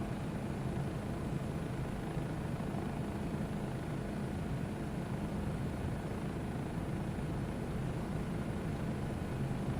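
Helicopter in Microsoft Flight Simulator 2024, a steady, loud rotor and engine drone that holds constant and fills the whole stretch without pause, heading toward mountains.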